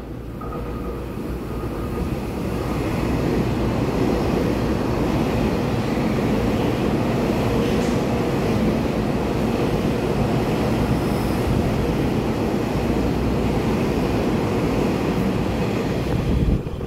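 A twelve-car EMU3000 Tze-Chiang express train rolls steadily into a platform, a loud continuous rumble and rail clatter holding close for about seventeen seconds with no talk over it.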